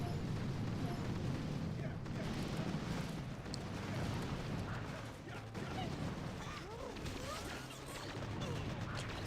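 Rifle fire and battle noise in the mobile strategy game Boom Beach, during a Fireworks Crab stage: a dense, continuous clatter of gunshots and crashes with mechanical rumble, steady and loud throughout.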